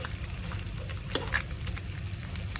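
Dried fish, crunchy lechon style, frying in a pan with a steady bubbling sizzle and occasional sharper crackles, close and moderately quiet, with no talking.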